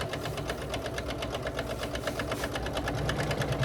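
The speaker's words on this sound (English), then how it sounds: "I'm going to start sewing" A sewing machine stitches fabric for a quilted gift, a fast, even mechanical chatter with a steady motor hum that runs throughout without pause or voices.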